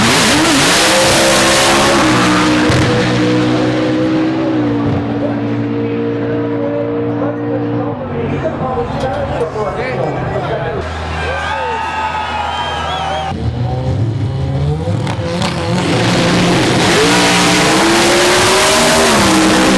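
Race cars at the World Cup Finals drag racing event roar loudly and continuously, with engines revving, rising and passing nearby. A mid-section briefly eases before the cars surge again, and voices mix into the din.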